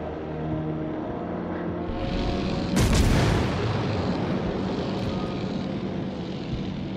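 A heavy warship gun salvo booms in the naval battle game World of Warships: Legends, one loud broad blast rising out of a steady engine and sea rumble, then fading back into the continuous background roar.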